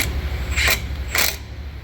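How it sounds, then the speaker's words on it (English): A brake retaining screw is driven in on the front brakes of a 2018 or newer Chevrolet Traverse, Blazer or GMC Acadia, Buick Enclave, with two quick ratcheting bursts from a tool over a low steady hum, close and clear. "Now let's put our brake returning screw in"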